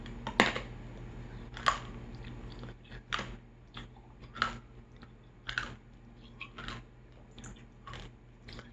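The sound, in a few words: crunching a Lifesavers Wint-O-Green mint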